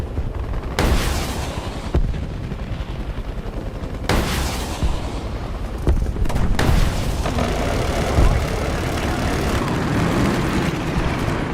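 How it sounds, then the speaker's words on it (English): Delta Force video game combat with heavy gunfire and booming blasts, several sharp loud bursts over a dense rumbling battlefield roar, no talk. "There's someone trying to shoot at me."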